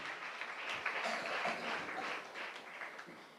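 A church congregation claps in thanksgiving after a sermon, a dense, steady burst of many hands ringing out together for a few seconds with no voices over it.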